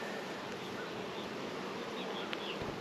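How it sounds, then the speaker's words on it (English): Dense, steady buzzing of many honeybees swarming close by, a continuous humming drone with no talking. "bees are so interesting"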